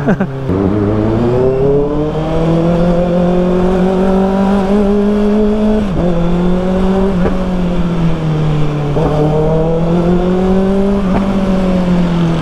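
A 2024 Kawasaki ZX6R motorcycle with a new aftermarket exhaust hums steadily and rises and falls through several revs, loud and close, with a deep rumbling tone.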